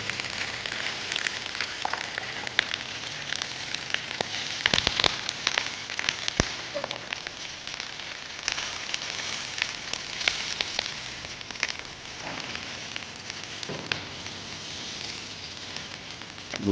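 Fish frying in oil in a pan with banana, a steady dense sizzle with crackling pops throughout, close and fairly quiet, no voices.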